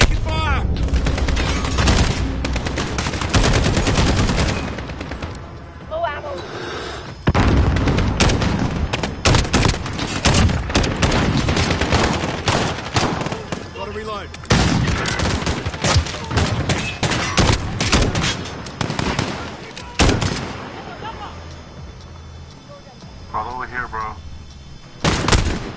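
Sustained video-game gunfire, with dense overlapping bursts of automatic shots and heavy booming reports that keep up almost without pause, loud and close, with voices talking over the battle.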